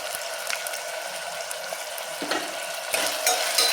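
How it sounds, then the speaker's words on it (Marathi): Potato, eggplant and cluster beans are stirred and sautéed in a pressure cooker while sambar rice is made, giving a steady close sizzle with occasional scraping stirs. "एक साधारण दोन मिनटं छान भाज्या परतून घेऊयात आपण"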